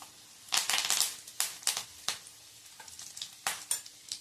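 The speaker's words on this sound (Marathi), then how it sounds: "ह्यामध्ये हे मोहरी घालणार आहोत, कढीपत्ता घालणार आहोत." Mustard seeds and curry leaves crackle and spit in hot oil for a traditional Maharashtrian pithla, with sharp bursts of popping and sizzle coming in uneven clusters, close and fairly loud, with no talking.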